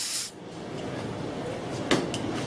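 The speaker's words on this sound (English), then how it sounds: "And the next thing I do is I spray my brush." Cleaner sprayed onto a brush while a car's digital MAF sensor is being cleaned: one short, close hiss of spray at the very start, then steady quiet background hiss.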